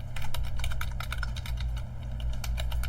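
A computer keyboard is typed on quickly to enter a URL, with a close run of light key clicks in irregular bursts over a steady low background hum, with no talking.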